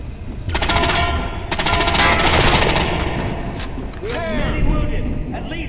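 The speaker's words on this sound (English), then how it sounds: "I'm hearing gunfire" Bursts of rapid automatic gunfire amid loud explosions and mechanical clatter, with game voices in the mix, in the video game Splinter Cell: Blacklist.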